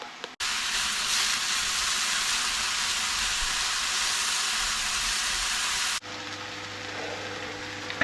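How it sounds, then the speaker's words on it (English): A chilli dish simmering in a pan gives a loud, steady sizzle close by that cuts off abruptly near the end, leaving a softer bubbling hiss. "I'm going to leave that to simmer for a minute"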